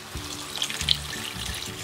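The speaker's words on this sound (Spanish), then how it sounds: "le vamos a poner una taza de agua para que hidrate el chile" A cup of water is poured into a pot holding chile while a Chihuahua-style fish and shrimp broth cooks. The pour gives a brief splashing gush that rises and then trails off, with no talk over it.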